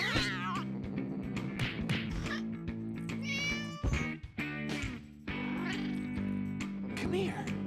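A cat in No More Heroes 2 meows repeatedly in drawn-out, wavering cries that come close and loud over a steady background of music and voices.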